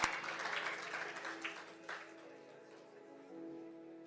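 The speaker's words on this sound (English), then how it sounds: "Guys, clap hands." An audience at a school teaching and learning festival claps their hands, a dense patter that fades off after a couple of seconds, with a voice faintly heard in the room.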